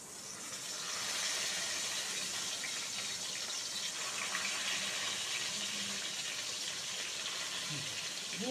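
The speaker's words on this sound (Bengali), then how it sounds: "তেলটা গরম হয়ে গেলে এর মধ্যে আমি এই পাতাগুলো দিয়ে ভাজবো" Bottle gourd leaves fry in hot oil in a home kitchen, giving a steady, soft, close sizzling hiss that holds evenly throughout without talk.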